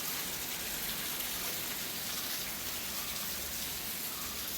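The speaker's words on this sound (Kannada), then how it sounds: "ಇಷ್ಟು ಜೋರು ಮಳೆ ಸ್ಟಾರ್ಟ್ ಆಗೋಯ್ತು" Heavy rain falls during sunshine, making a dense, even hiss that stays steady and fairly quiet from start to finish without voices.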